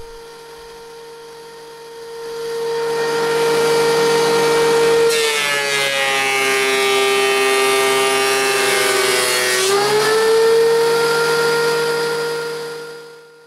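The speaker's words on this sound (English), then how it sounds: "Continue to make passes through the planer until you've established the desired thickness" A wood planer hums steadily close by, then its pitch drops and a loud rough cutting roar takes over for several seconds as a board feeds through, before the motor winds back up to its idle whine.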